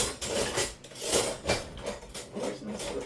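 Metal spoons and cutlery clink and rattle together as they are handled while dinner is being served in a kitchen, a close, continuous jangle with sharper clatters.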